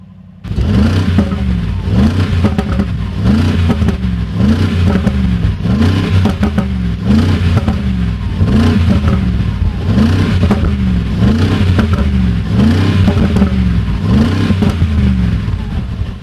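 A 2025 Mercedes-AMG G63 with its handcrafted twin-turbo V8 runs loud and close, its deep engine note pulsing in a steady repeating rhythm for about fifteen seconds with no talking.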